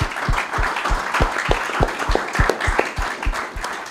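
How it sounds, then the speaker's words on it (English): A room full of audience members applauds speakers and young attendees at a Lummi Nation gathering, steady dense clapping with sharp individual claps standing out close by, no talk over it. "just another round of applause for the speakers and our youth that are here."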